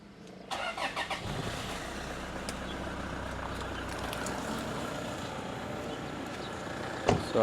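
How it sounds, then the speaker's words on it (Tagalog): A car engine cranks and catches, then settles into a steady, close, even idle as it warms up, with a brief clunk near the end. "So, papainitin ko muna yung sasakyan. Siguro it takes 5 minutes."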